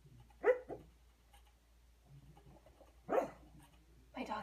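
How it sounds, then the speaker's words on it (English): A dog asleep on a couch lets out soft muffled barks in its sleep: a short double woof, a pause, then another and a faint start of a third, quiet in a still room. "dog back here on the couch barking in his sleep"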